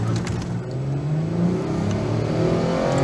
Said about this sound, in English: I'm gonna do a first gear wind out to about 40 miles an hour